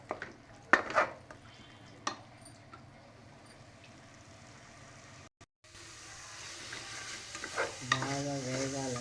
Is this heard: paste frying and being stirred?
yes